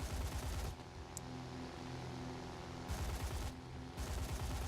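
Machine-gun fire from a turret on a Be-6 flying boat in a video game: two long continuous rattling bursts separated by a pause with steady engine drone, then another burst, loud and dense with no voices.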